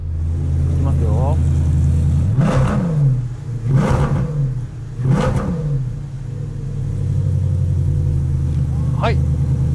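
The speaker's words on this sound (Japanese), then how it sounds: "だいぶいい音する。 ストロークが短いですからね、今のマセラティと違って、お腹に響きますよね" A Maserati Coupe Cambiocorsa's exhaust revs three times in quick succession over a steady, loud idle rumble, each blip rising and falling, with a faint higher whine near the end.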